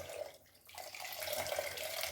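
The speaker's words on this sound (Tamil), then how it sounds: "புளி தண்ணியை அப்படி மேலோட்டமாக இப்படி ஊற்றிக்கிறேன்" Tamarind water pouring into a pan of crab gravy, a brief close trickle and splash that swells into a steady liquid stream.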